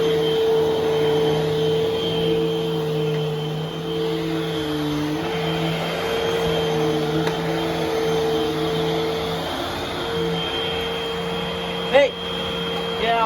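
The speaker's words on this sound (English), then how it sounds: "Very nice vacuum for a Eureka." A Eureka vacuum cleaner runs with a steady whining motor drone and a sustained tonal hum throughout, with a brief knock near the end.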